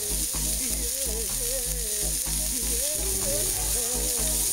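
Dijon chicken strips fry in a pan with a loud, continuous sizzle, while a wavering tonal hum plays underneath the whole time.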